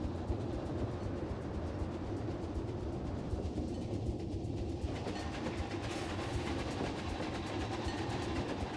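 Train ride in Planet Coaster 2, a steady broadband rumble and rattle of rolling wagons lasting throughout, continuous and moderately loud with no talking.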